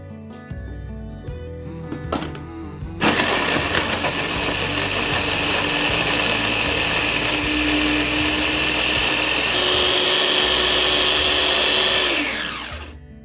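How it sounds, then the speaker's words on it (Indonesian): Electric blender grinding turmeric, palm sugar and tamarind water into spice paste for Madura-style fried tripe; after a few clicks it starts abruptly and whirs loud and steady for about nine seconds, then winds down. "Sekarang kita blender dulu ya hingga halus."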